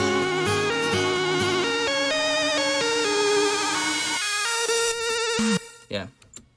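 Bright electronic lead synth plays a steady melodic line drenched in reverb with a high-pass filter effect, loud and sustained, then drops away into sparse, filtered fragments that fade out.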